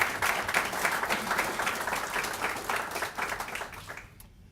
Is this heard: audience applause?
yes